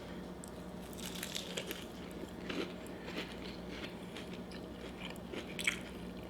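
Close, steady crunching and chewing of a Flamin' Hot Cheetos–crusted fried colossal prawn eaten at a seafood boil mukbang, with brittle crackles and wet mastication running continuously, no talking.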